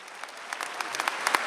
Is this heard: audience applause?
yes